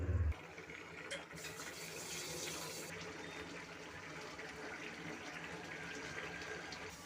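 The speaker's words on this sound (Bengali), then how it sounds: "এবার জল দেওয়া হবে।" Water is poured from a tap or vessel into a pot of banana flower curry with potatoes, a faint, steady rushing fill after a brief louder knock at the start.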